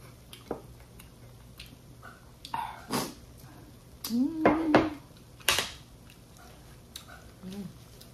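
A dog barks indoors in a kitchen, several sharp separate barks spread across a few seconds. Dish and cutlery clatter sits between them and people talk nearby.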